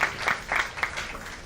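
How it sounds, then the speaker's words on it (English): Brief, faint applause from an audience at an awards event, a short burst of scattered clapping with no voices over it. "Big round of applause to Dr."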